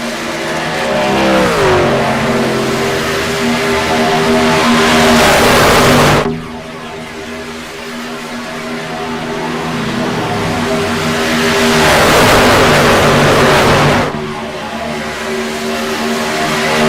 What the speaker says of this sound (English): the thunder, the roar, the rumble of the NASRA DSR trucks going into turn 1 in Daytona